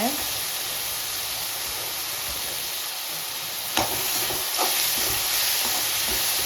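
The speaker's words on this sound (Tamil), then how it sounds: "தக்காளி வதங்கிட்டு இருக்குங்க." Tomatoes sauté in a pan as the base for a kuzhambu, giving a steady close sizzle and hiss with a couple of brief stirring scrapes.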